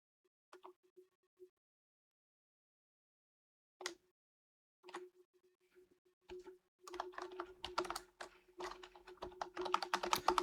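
Someone types on a computer keyboard while entering text in the Figma design tool. A few scattered keystrokes are separated by pauses, then a fast, steady burst of close clicking. No one talks.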